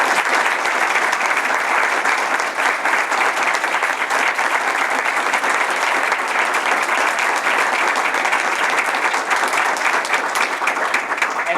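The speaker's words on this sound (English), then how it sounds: "I just want to particularly appreciate and give a round of applause to Lisa, who knows everything." A roomful of attendees at a research methods division business meeting and awards event gives a sustained round of applause, steady and dense clapping that holds at an even level throughout without a break.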